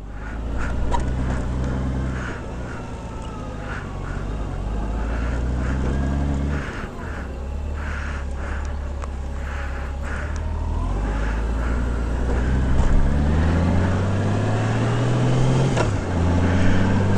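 Motorcycle riding along the Spearfish Canyon Scenic Byway, with a steady engine drone that shifts pitch as it climbs and shifts through gears, mixed with constant wind rush, loud and close throughout.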